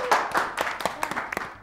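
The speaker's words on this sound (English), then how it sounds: "Let's give him a round of applause." A small audience of schoolchildren claps for a spelling contestant, a brief, sparse run of separate hand claps, close and moderately loud.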